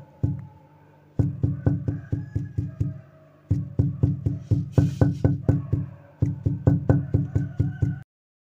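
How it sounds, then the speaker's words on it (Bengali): Beef is pounded to shreds with a series of sharp, rhythmic thuds, heard in three quick bursts of repeated close blows separated by brief pauses. "মাংসগুলো ভালোভাবে ছেঁচে নিব যেন ঝুরা ঝুরা হয়ে যায়।"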